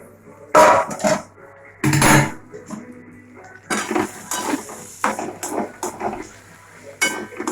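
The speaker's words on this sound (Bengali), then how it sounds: "আমরা ঢাকনা তুলে নেবো" Metal pot lid lifted and set down during home meat cooking, a few sharp clanks and clinks of cookware close by with quieter handling knocks between, no speech.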